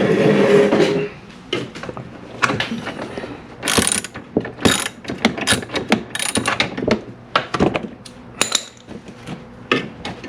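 A ratchet clicks in quick irregular bursts while loosening a fog light screw on a 2016 BMW 428i, close and crisp with short pauses between strokes.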